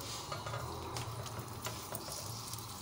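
Aloo paratha frying in ghee on a pan, a faint steady sizzle with soft crackles and occasional light stirring scrapes, heard alone without talk.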